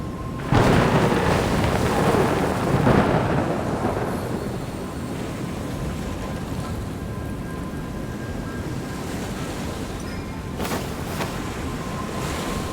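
A storm surging from the deep sea rolls in as a loud, broad roar of surf and rumbling thunder that swells early, then settles into a sustained wash of wind and water with a faint crack near the end.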